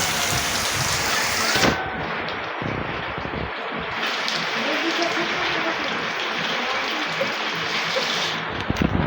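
Heavy village rain pours down in a dense, continuous hiss of drops striking surfaces, with occasional low rumbles and bumps running through the nine seconds.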